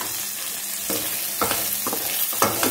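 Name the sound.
cut green chillies frying in oil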